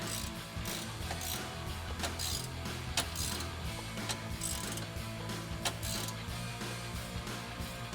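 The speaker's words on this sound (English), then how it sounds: "we'll take a 16mm wrench and 16mm ratcheting wrench and tighten this down" A 16mm ratcheting wrench tightening a bolt on a Bronco front bumper gives fast, steady ratchet clicking with sharper snaps between the strokes, close and continuous, with no speech.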